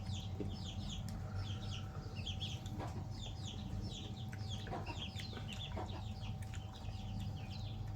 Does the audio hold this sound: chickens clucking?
yes